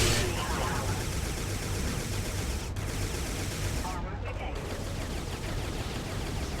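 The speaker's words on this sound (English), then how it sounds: "you're going to see me explode doors and then immediately Sonic Cannon." Doors blasting open and a Sonic Cannon firing in the video game Recoil, heard as dense, continuous loud bursts of gunfire-like blasts and explosions with a few sharp cracks.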